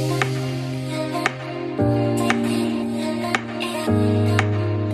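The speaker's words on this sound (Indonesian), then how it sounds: "itu suara blowernya itu akan lebih terdengar lagi" The AC blower fan of a Toyota Innova runs with its cabin filter removed, giving a steady whirring hum that shifts level in distinct steps, with periodic sharp ticks and clicks over it.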